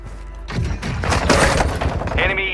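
Heavy gunfire in a Warzone battle royale match, a loud burst of rapid overlapping shots and booming impacts that swells after a quieter start and keeps crackling near the listener.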